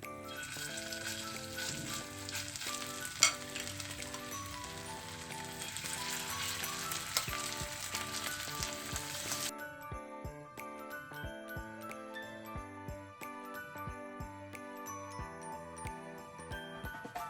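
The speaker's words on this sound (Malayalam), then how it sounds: "എണ്ണ ചൂടായിട്ടുണ്ട്. ഇനി നമുക്കിതിലേക്ക് ചിക്കൻ ഇട്ട് കൊടുക്കാം." Chicken pieces fry in hot oil with a dense, steady sizzle and crackle that thins out partway through, while faint background music plays underneath and no one speaks.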